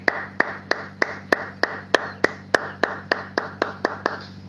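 Rhythmic clapping in a church service, sharp evenly spaced claps about three per second that continue steadily over a low sustained hum, with no voices over them.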